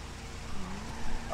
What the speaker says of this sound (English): I'm doing tandem drifts.